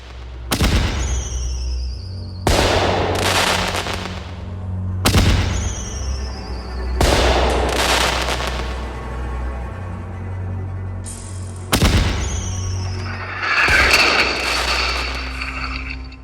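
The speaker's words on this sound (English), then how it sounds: "This is 12th Marines with a 105mm howitzer returning fire during incoming." A 105mm howitzer of the 12th Marines fires repeated outgoing rounds from about 15 yards away, heard from a trench. Five loud booming blasts come at intervals of roughly two to three seconds, each with a long rumbling decay.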